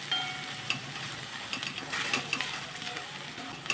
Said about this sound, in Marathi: मंद गॅसवर हे सगळं छान परतून घ्यायचं